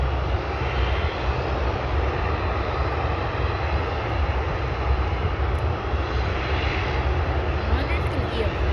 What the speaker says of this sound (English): There goes Swoop 737, operated by WestJet.